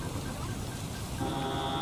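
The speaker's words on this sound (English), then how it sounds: "It started to rain" Rain falls steadily on a street as an audio drama effect, a continuous broadband hiss with a faint tonal hum entering partway through, moderately loud and without any voices.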